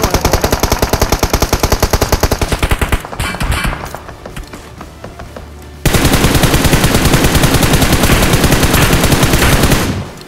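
Rapid, loud gunfire from the PUBG Mobile video game, including Mini14 and Kar98 shots, comes in dense volleys. The shooting eases and thins in the middle, then returns in a sudden louder burst before stopping.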